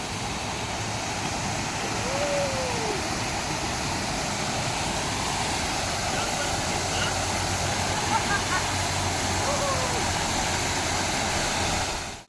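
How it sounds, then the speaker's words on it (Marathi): A waterfall where people are bathing roars in a constant, loud, unbroken rush of falling water that holds steady throughout. "धबधब्या आंघोळ आहे तर चला आपण पण आंघोळ करूया फटाफट"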